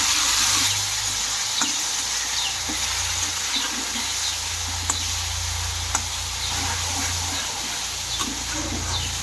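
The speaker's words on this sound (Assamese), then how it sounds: "এতিয়া পেষ্টখিনি দি দিম, আদা নহৰু আৰু বিলাহী। ভালদৰে মিহলাই দিম।" Ginger, garlic and tomato paste frying in a pan for chana dal, a steady soft sizzle with occasional stirring clicks and scrapes throughout.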